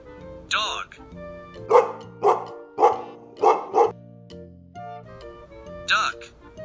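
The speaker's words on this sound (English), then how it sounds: "Dog." A dog barks five times in a quick, uneven series, loud and close, with a voice speaking briefly before and after the barks.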